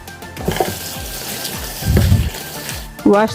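Spinach is rinsed under a running tap, a steady close hiss of flowing water with brief splashes and a clatter near the end.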